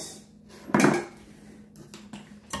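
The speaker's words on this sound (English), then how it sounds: "I'm just going to kind of scrape the sides and see if this is mixed good" A utensil scrapes the sides of a mixing bowl of muffin batter, giving a few short, close scrapes and knocks: one louder stroke early, then fainter ones near the end.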